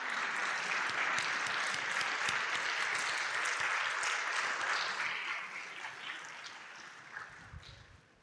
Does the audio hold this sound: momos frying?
no